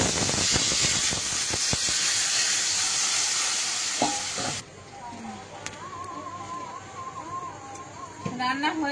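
Water poured into a pan of spiced potatoes frying for a curry sets off a loud, broad sizzling hiss that cuts off sharply midway, after which a voice speaks over faint kitchen clatter.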